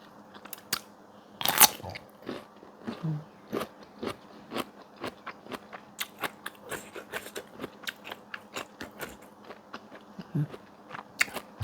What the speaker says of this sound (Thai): นอขมค่ะกินกับน้ำพริกผัด